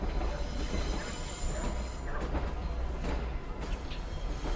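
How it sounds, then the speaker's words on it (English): A tram rumbles past in Syberia: The World Before, a steady rolling rail noise with faint wheel squeal, continuous and fairly close with no talk over it. "Is that the tram I came on?"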